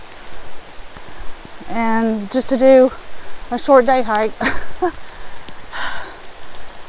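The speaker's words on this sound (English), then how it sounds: "hit the trail while it's pouring rain" Pouring rain on a forest trail in the Great Smoky Mountains, a constant broadband hiss of falling water throughout, with someone talking over it.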